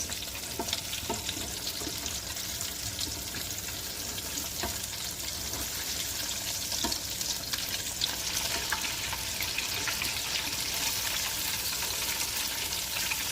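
Fish fries in hot oil, giving a loud, continuous sizzle with crackling pops and occasional scraping as pieces are turned, close and steady with no talking.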